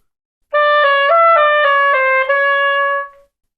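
A solo oboe plays a quick semi-chromatic scale of stepwise notes, clear and close, ending on a held tone that fades out.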